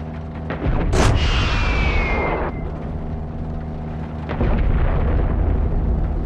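Rocket explosions and gunfire in Far Cry 6 erupt as a loud blast with a whooshing descending tail, then sustained rumbling and another heavy boom over a droning vehicle engine.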